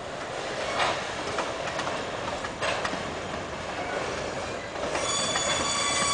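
A train rolls along tracks nearly a century old, giving a steady loud rumble of wheels on rail with occasional clacks and a high squeal building near the end. No voices are heard.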